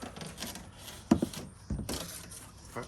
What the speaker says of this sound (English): remove all this weather stripping as it's damaged. It's probably going to take a little bit of prying up here and there, and just pull it up